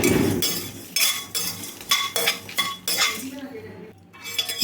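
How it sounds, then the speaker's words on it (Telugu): Metal spoon clattering and scraping in a pan as spices and curry leaves fry for a mutton curry, a run of sharp rhythmic clinks and scrapes close by with faint sizzling beneath. "మసాలాలు మంచిగా వేగే విధంగా అయితే కలుపుకుంటూ వేయించుకోవాలండి"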